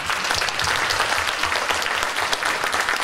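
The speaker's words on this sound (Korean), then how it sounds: "하나님 앞에 감사의 박수" A church congregation claps together in thanks during a sermon, a loud, steady round of dense applause filling the room throughout with no break.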